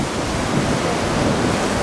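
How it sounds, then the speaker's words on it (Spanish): Ocean waves break on a rocky stretch of Playa Punta Cerritos in Mazatlán, Sinaloa, producing a loud, steady roar of surf with wind rushing across the microphone and no speech. "El oleaje aquí como que se rompen las olas."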